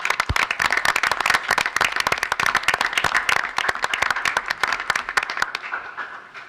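Applause at a regular school board meeting, a dense run of sharp individual claps from a room of people, steady and fairly close, thinning out and fading toward the end.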